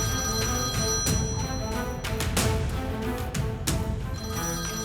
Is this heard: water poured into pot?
no